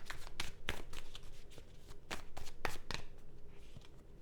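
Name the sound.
shuffling a new tarot card deck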